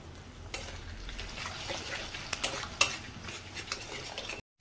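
Eggs are scrambled in a frying pan, a close sizzle with a run of scraping spatula strokes and a few metallic clicks, ending abruptly in silence.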